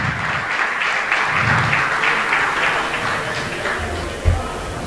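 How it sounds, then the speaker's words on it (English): Audience applause for a speaker at a live event, a steady wash of clapping that holds at a fairly even level, with a brief louder thump near the end. "a big round of applause for ma'am"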